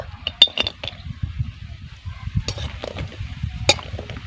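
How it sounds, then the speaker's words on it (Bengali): Homemade lentil dumplings (bori) frying in hot mustard oil, with a low bubbling crackle and sharp clinks of a spatula against the pan, close and without speech. "তেলকে আমি ভালো করে গরম করে নেব প্রথম আমি বড়িগুলোকে ভেজে নেব"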